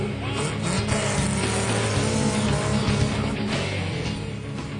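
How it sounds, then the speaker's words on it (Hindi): Rally cars racing through desert terrain at the Maruti Suzuki Desert Storm 2016, a steady loud engine roar with revving swells and a rushing wash of noise throughout. "शोर मचाते रेत उड़ाते यह रफ्तार के बाजीगर"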